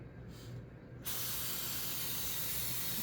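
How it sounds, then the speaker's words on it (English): A short faint hiss, then a steady close spray of cooking oil that hisses evenly until the end. "you're just going to spray it lightly on the pan"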